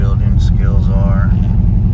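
LS-swapped Chevrolet C10 pickup engine running steadily while shifting into second gear, low on power with a slight miss; a continuous loud rumble under a voice talking.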